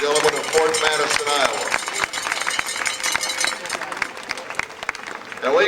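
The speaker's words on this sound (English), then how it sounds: "these people deserve a big round of applause" Applause from an event audience at an awards and rodeo queen pageant gathering, a dense, loud, sustained wash of clapping with a voice speaking over it near the start and end.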